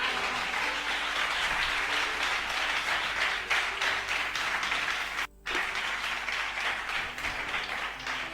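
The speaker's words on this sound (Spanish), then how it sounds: "Dale ese aplauso al Señor." A church congregation breaks into sustained applause, a dense, even wash of clapping that holds steady for several seconds, briefly dips to near silence, then resumes at full strength with no speech over it.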